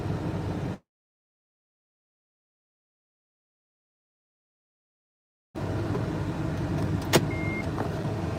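A car engine idles steadily after being started, a continuous low broadband rumble that cuts in after a long silent gap, with a brief click near the end and no talking.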